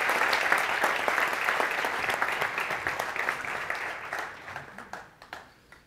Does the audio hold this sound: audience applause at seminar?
yes